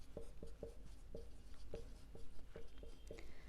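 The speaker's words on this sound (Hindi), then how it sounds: "यहाँ पे लिखते हैं" Pen strokes on paper during an accounts lesson, a steady run of short scratchy marks and quick lifts repeating in an uneven rhythm, close and fairly quiet with no talking.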